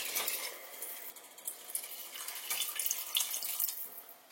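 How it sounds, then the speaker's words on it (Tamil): Water poured into a pot of vegetable biryani in a home kitchen: a continuous hissing, splashing stream that runs for several seconds and rises and falls a little in strength, with no talk over it. "இப்ப இதுல நம்ம தண்ணி சேர்த்துடலாம்"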